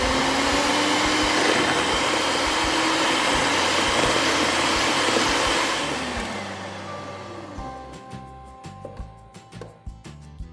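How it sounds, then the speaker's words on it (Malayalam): An electric beater whips egg whites with sugar in a loud, steady whir, then cuts off partway and gives way to scattered bowl knocks and taps. "മുട്ടയുടെ വെള്ളയിലേക്ക് 3/4 കപ്പ് പഞ്ചസാരയും കൂടി ഇട്ടിട്ട് നന്നായി ബീറ്റ് ചെയ്തെടുക്കാം"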